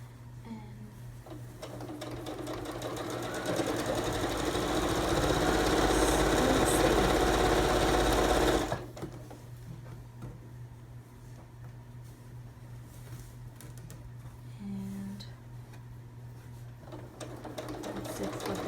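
Sewing machine stitching fabric for a cushion cover, a close, steady whirring run that rises for several seconds then stops abruptly, followed by quieter handling.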